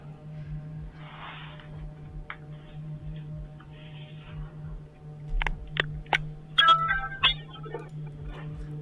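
A Ring video doorbell at a front door chimes in a short cluster of bright electronic tones near the end, over faint steady background hum and ticking.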